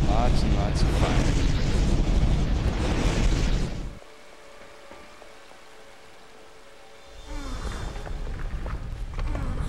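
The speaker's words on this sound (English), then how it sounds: "Just lots and lots of fire." Roaring fire in the Indiana Jones and the Staff of Kings video game: a loud, steady blaze of crackling roar for about four seconds, then a quiet lull, then the roar swells back up.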